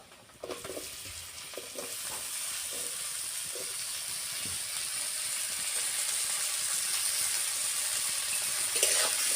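Potatoes land in a hot pan in a village kitchen for a small-fish curry with taro, breaking into a broad, steady sizzle after a few clatters and stirring taps, close and continuous with no talk.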